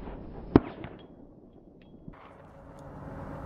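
One sharp, fairly faint crack from a Phoenix .22LR pistol fired freehand at a steel plate target about 160 yards away outdoors, followed by a quieter brief tick in the open air.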